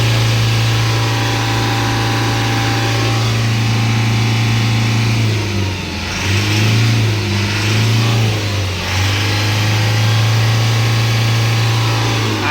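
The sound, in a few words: car engine revving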